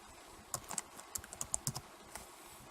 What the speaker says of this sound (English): put in the ampersand or the and symbol, and then type in score